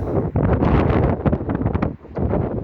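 Strong wind roars steadily in gusts, rushing and rustling through huge green tree branches in a snowy December garden, with a brief lull near the end.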